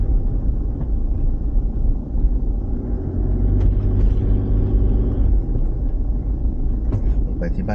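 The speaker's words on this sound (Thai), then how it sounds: "ขับลงไปที่บ้าน" A car drives along a rural road toward Pha Chana Dai in Ubon Ratchathani, Thailand, heard from inside the vehicle as a steady, loud low engine and tire rumble that continues throughout.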